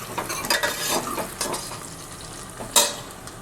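Dal and rice roast in a pan for khichdi, with a light dry sizzle under close stirring scrapes and a few clinks of a utensil against metal, and no voices.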